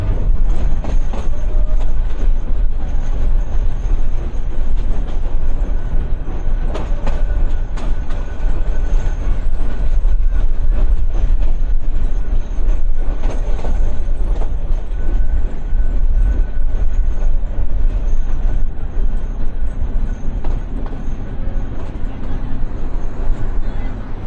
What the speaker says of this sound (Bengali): ট্রেনটা সাড়ে এগারোটার দিকে কাউনিয়া রেল স্টেশনে প্রবেশ করতেছে